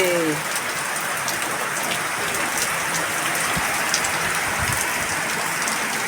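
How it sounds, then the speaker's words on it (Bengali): A heavy downpour pours steadily outside a home, a dense, loud rush of rain on surfaces with scattered drips that holds constant throughout. "মুষলধারায় বৃষ্টি এলো, ঝমঝম করে বৃষ্টি করছে"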